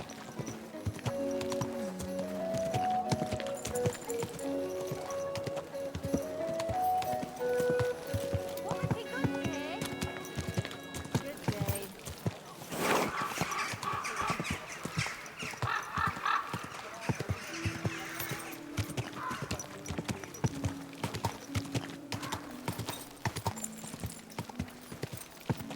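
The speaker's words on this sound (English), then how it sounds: "Easy, good horse." Horse hooves clip-clop steadily in the video game Kingdom Come Deliverance 2, with a possible brief whinny, all beneath background music and voices talking.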